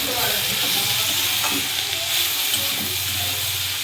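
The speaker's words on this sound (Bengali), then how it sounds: "ভালো করে কষাতে থাকবো।" Vegetables with turmeric and salt sauté in a pan with a loud, continuous sizzle and hiss, while steady stirring scrapes run beneath it up close, with no voices.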